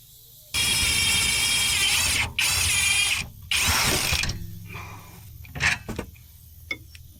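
Ratchet wrench spinning off the 17mm bottom bolt of a rear coilover strut, three loud sustained bursts of rapid clicking close up, followed by quieter clanks and taps.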